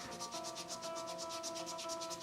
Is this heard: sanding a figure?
yes